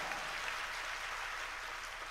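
Steady wash of audience clapping at a patriotic gathering honouring a brigadier and sportspeople, filling the whole stretch evenly with no talk over it.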